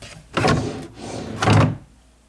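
A hotel room drawer sliding open and then shut, two close wooden rumbling slides about a second apart in a quiet room.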